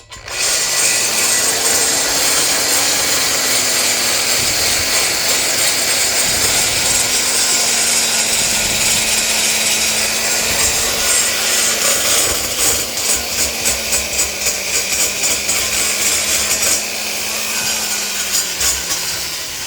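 A handheld drill grinds inside an exhaust header flange, giving a loud, steady whine with a rough metallic rasp that holds almost unbroken for about twenty seconds, with no talking.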